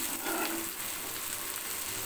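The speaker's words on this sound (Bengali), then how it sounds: "লবণ হলুদ মাখিয়ে, সঙ্গে কাঁচামরিচ পেঁয়াজ দিয়ে মাছটা ভাজি করে নিলাম।" Hilsa fish coated with salt and turmeric fries with green chili and onion in a pan, giving a steady, dense, close sizzle that never lets up.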